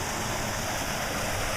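Spring water at Roaring Spring, Pennsylvania, pours out in a constant close, rushing flow with no pauses or voices.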